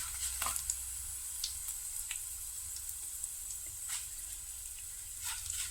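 Green chillies and asafoetida fry in oil for an orange-peel curry with a faint, steady sizzle and hiss, broken by a few soft ticks and pops.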